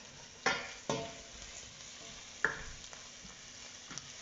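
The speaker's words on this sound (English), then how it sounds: "I'm going to add in some ginger. It's quite rough, as you can see. I'm going to use some for garnish as well. I'm going to stir that for a bit" Rough-cut ginger fries in a pan while being stirred, a soft steady sizzle marked by a few sharp scraping strokes of the spoon, fairly quiet and without talk.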